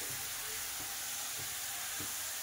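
Fried prawns sizzle in a pan of spiced masala: a steady, fairly quiet broadband hiss runs throughout, with a few soft low stirring knocks spaced through it.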